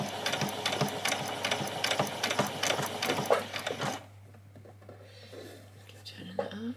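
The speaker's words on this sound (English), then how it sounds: "You're just putting in a tacking stitch, which is going to be so that we can gather up this ruffle on this side." A sewing machine running a tacking stitch along the ruffle of a doll's dress, a fast, close mechanical whirr for about four seconds under a talking voice before it stops.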